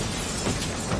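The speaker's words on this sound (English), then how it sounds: "This guy, like Captain America, punching through the train glass." Train window glass shattering in a film, a dense, loud, continuous crash of breaking glass filling the whole brief moment with no voices.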